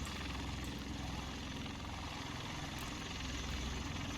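Steady, dense rotor and engine roar of a V-22 Osprey tiltrotor aircraft in the War Tycoon video game, loud and unbroken, with no talking.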